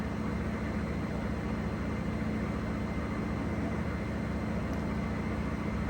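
Whirlpool Cabrio Platinum washer in a fast spin cycle, a steady, dense whooshing hum with a low motor drone, constant and fairly loud with no pauses or vibration knocks.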